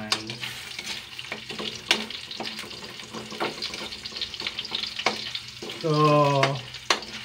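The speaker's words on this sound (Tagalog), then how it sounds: "So, igisa muna natin tong bawang saka ang sibuyas." Garlic and onion sautéing in a pan, a soft sizzle under scraping and stirring clatter, with a brief burst of running water near the end and a short word of speech at the start.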